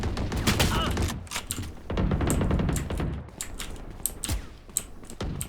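Rapid gunfire bursts in the first-person shooter game Valorant crack in clustered volleys, dense at first, then thinning into scattered sharp shots and clicks.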